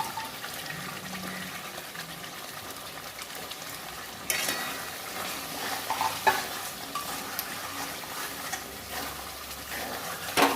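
Paneer goes into a pan of cooked masala and sizzles steadily. A soft thump marks the drop partway through, followed by continued frying and occasional stirring scrapes, with no one speaking.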